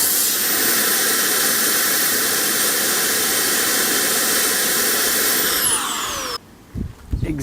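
A Milwaukee cordless leaf blower blasts air in a loud, steady roar close by for several seconds, then winds down with a falling whine and cuts off, leaving faint handling noise.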